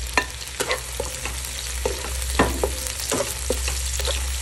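Garlic and onion frying in a pan, with a steady sizzle underneath and sharp, irregular stirring scrapes and taps of a spatula against the metal, close up and without speech.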